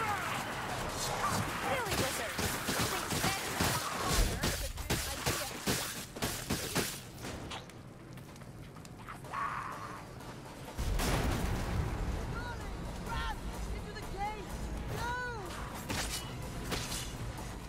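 An explosive barrel blows up in the video game Vermintide 2. Heavy, booming blasts and crashing debris come in bursts and then fade. A second roar of noise follows, with people talking over the game sound.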